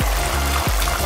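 Water is poured in a continuous, close gush into a mutton bhuna masala gravy in a cooking pot, with a steady rushing sound.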